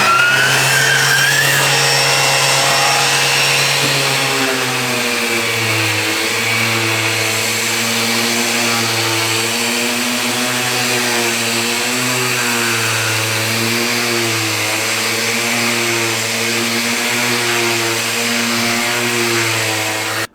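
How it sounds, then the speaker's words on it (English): A power sander grinds steadily with an Evolution R15VAC wet and dry shop vacuum attached and running, a loud continuous mechanical whine and drone that shifts pitch slightly after a few seconds and holds throughout, with no talk. "So let's give it a little bit of a sand and we'll see how well it copes."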